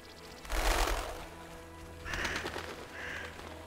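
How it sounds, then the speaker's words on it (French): Birds take off in The Witcher video game, with a burst of flapping wings followed by a couple of harsh bird calls at moderate distance. "Des oiseaux qui s'envolent déjà."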